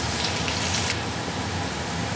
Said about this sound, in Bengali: আর আমি এখানে জিরে ফোড়নটা দিয়ে দিলাম